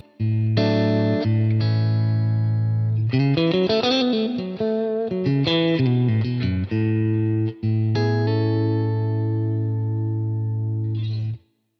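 Electric guitar through a Neural DSP Quad Cortex on a patch set near amp breakup, with long sustained low notes, a busier melodic run in the middle and ringing chords afterward, steady in volume with effects and no talking.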